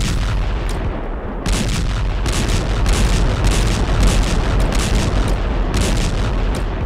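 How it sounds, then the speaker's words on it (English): An explosion in the video game Gorilla Tag gives a loud, continuous rumbling roar with repeated sharp booming bursts throughout, heard alone without talk. "huh, explosion,"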